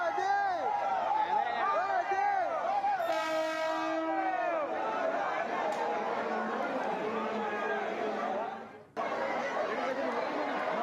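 A local commuter train at Vasai station, stopped by passengers on the tracks during heavy rain, sounds a long wavering horn over crowd chatter and steady rail rumble, loud and close, with a brief cut near the end.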